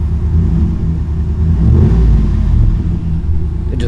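A 2019 RAM 1500 fitted with a Carven exhaust idles with a deep, steady low rumble, swelling briefly as the engine is blipped, loud and close.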